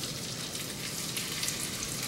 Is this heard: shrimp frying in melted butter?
yes